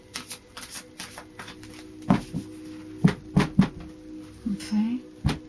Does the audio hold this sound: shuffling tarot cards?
yes